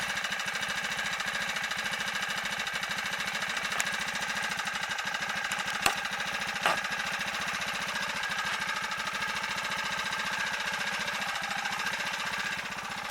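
A Bike Berry 49cc four-stroke motorized bicycle engine runs steadily at close range, a continuous rapid chugging drone with a few brief sharp clicks, no talking.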